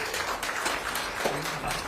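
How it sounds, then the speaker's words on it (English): An audience claps at the official launch of a TV channel, a continuous patter of hand clapping at moderate distance, with faint sounds of the room underneath. "they deserve a very, very big hand clap for that"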